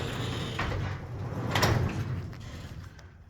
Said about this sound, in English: You can operate the door manually.